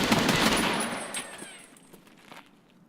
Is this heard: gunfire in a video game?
yes